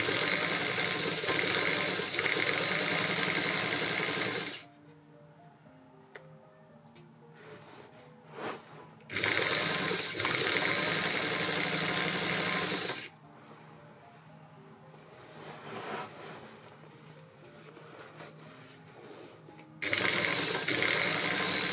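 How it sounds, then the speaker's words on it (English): Sewing machine stitching the pleats and gathers of an 1830s-style Victorian witch costume skirt, heard in loud sustained runs that break off into quieter passages of faint clicks and handling noise. "The pleats and gathers are secured with a machine stitch too."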